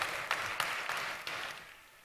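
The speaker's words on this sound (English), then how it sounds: "Ladies and gentlemen, Ilse Boligina, round of applause." Audience applause at a live-streamed event, a steady patter of clapping with a few sharper peaks that gradually thins and fades toward the end.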